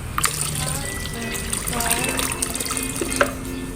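Filtered tobacco-leaf water pours into a sprayer tank with a steady, close trickling and splashing that runs throughout, while a voice talks over it.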